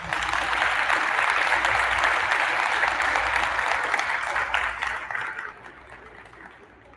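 Sustained applause from an audience at a school 6th-grade awards assembly, dense clapping that holds steady for several seconds and then fades away toward the end.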